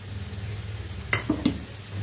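Carrots with date palm jaggery are stirred in a pan for carrot kalakand: a low, steady sizzle with a few quick spoon scrapes against the pan close by.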